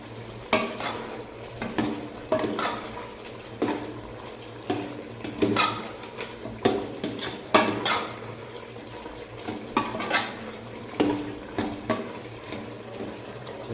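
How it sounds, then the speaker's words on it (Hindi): Goat or chicken liver with chili frying in a pan, stirred with a utensil that scrapes and clatters against the metal in uneven bursts over a steady low sizzle, close and alone. "तो इसको अच्छी तरह से हमने भून लेना है।"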